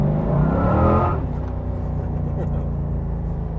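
Subaru BRZ with a swapped LS3 V8 making about 500 hp, accelerating hard in second gear with traction control off; a loud, deep engine roar that eases after the first second into a steady drone, with no talking.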